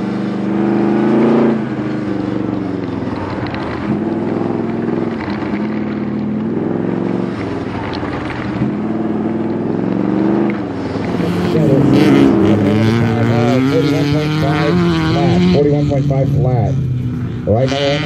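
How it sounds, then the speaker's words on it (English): A Porsche 911 rallycross car, number 53, drives at an SCCA Rallycross Nationals event, its engine droning and revving with shifting pitch throughout, loud and continuous, while people talk over it. "now we got that 911 pulling up, number 53"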